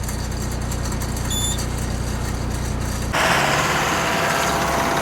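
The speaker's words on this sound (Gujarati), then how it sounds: "ચાવી લઈને ટ્રેક્ટર ચાલુ કરો" A tractor engine idles with a steady low chugging rumble, then turns rougher and noisier partway through, like it is revving or being throttled up.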